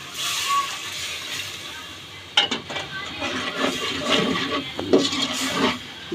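Water poured into a pan of cooking meat curry, a splashing, gurgling rush that starts suddenly partway through and continues with pan clatter, with faint voice nearby.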